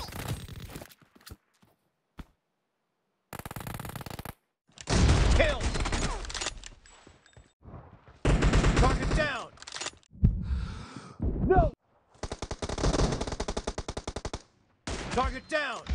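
Bursts of rapid gunfire and single shots from a shooter video game come in several loud clusters separated by short silences, with a few faint breaths and movement sounds between them.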